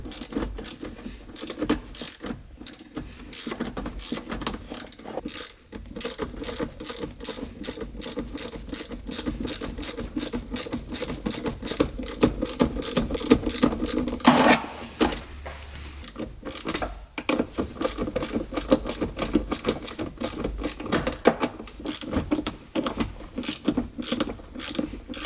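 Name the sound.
tightening battery cables on a UTV solenoid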